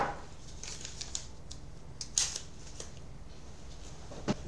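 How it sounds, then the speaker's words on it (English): Tape being pulled and applied to a wrecked pirate flag, faint crinkling and sharp ripping pulls in a few scattered bursts against a quiet background. "Let's tape this one up just for fun."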